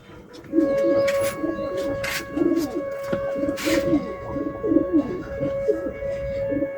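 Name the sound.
pigeons cooing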